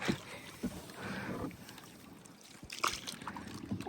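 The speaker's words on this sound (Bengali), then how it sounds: "নৌকা ঘুরাইতেছে" A small wooden rowboat is paddled and spun around on water in a rural village setting, with soft splashing and water movement throughout and faint voices in the background.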